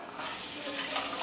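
Tap water runs steadily into a cup or container in a kitchen, a continuous close hissing gush that starts abruptly and keeps an even strength, with no talking over it.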